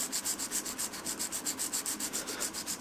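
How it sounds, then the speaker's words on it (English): A Scandi grind knife is drawn back and forth over a sharpening stone by hand, giving steady, rhythmic gritty rasping strokes, about six per second, close and even. "the easiest method to sharpen a knife by hand using minimal equipment"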